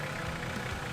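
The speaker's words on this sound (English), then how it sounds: "Just idle it up like that." A vehicle engine idles steadily at low revs, a faint continuous low rumble with no other sounds over it.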